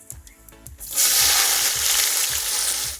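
Sliced onions hit hot oil with a sudden loud sizzle after a second of quieter clatter, then fry steadily with a bright, hissing crackle close by, while cooking mutton biryani.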